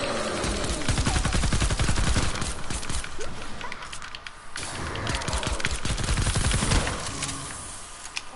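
Rapid, loud bursts of video game gunfire crackle almost continuously, with shotgun blasts among them and brief lulls between volleys.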